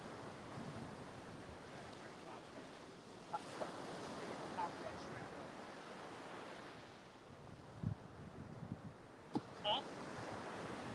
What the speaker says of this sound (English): Waves come up good on that one.